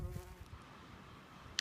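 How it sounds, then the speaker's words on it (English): Bees and wasps buzzing over a colourful flower bed along a coastal path, a faint, brief hum with a soft tick near the end and no talk. "it's alive with bees and wasps and butterflies and all kinds of things"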